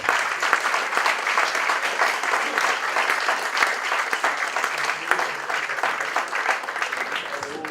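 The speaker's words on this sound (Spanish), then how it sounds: "pido un aplauso para todos ellos" An audience at a 2015 book presentation applauds warmly, with steady, dense clapping that carries on at even strength for several seconds. No speaking cuts through.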